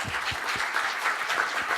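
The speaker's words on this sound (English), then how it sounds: "Let's give a big applause to them." Audience applause for a business forum's panelists, a steady dense patter of many hands clapping in a hall, moderately loud and continuous with no voices over it.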